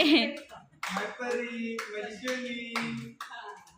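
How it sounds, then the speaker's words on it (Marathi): A small group claps hands to welcome a newborn baby at a family party, scattered claps under loud, cheerful talking voices close by. "परत टाळ्या वाजवा"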